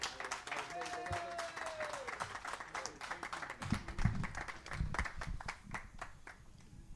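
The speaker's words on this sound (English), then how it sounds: "Ladies and gentlemen, please show a round of applause" Audience applause at a California jazz and blues museum hall of fame induction ceremony, as an inductee is welcomed; steady moderate clapping with crowd noise and a voice speaking over it throughout.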